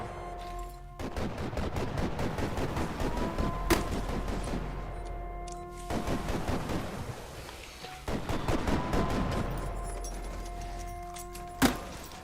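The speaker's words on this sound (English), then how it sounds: "set up that machine gun and fuck that guy up" Machine gun fire in a video game with stormy weather, several long bursts of rapid automatic shots separated by short pauses, loud and close, with a sharp single crack near the end.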